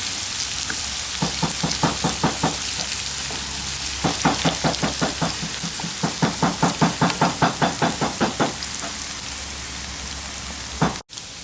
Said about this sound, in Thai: อันนี้เราเกียวหอมแดงอยู่ครับ แล้วก็เจียวกระเทียมครับ